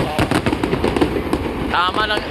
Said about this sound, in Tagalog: Tama rin yung fireworks.